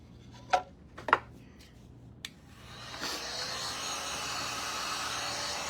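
A few sharp knocks against pallet wood give way to the steady, breathy whoosh of a dryer blowing over a thin layer of hot glue, holding an even level to the end.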